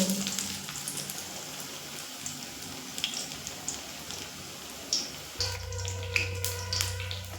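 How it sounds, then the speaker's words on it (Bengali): Batter-coated pumpkin flower pakoras frying in oil, with a dense crackling sizzle and scattered pops; about two-thirds of the way through the texture shifts as a low steady hum joins the frying. "দেখুন পকোড়া তো ভাজা হচ্ছে"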